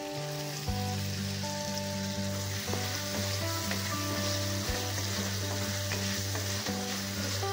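Tomatoes sizzle and fry steadily in a pan for a local rohu fish curry, with occasional stirring scrapes over a continuous close, loud hiss and a low hum throughout.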